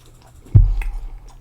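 One close, loud crunchy bite into crunchy yam fries, followed by a moment of moist chewing. The sound is brief and there is no talking.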